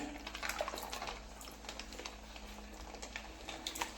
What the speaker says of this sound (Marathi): आता इथे मी थंड पाण्याचा वापर करून घेणार आहे गरजेनुसार जितकी मला गरज आहे जितका मला रस्सा लागणार आहे तितकं मी थंड पाणी घालून घेणार आहे